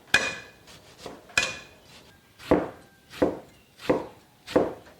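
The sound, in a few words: knife cutting partly frozen pork tenderloin into shreds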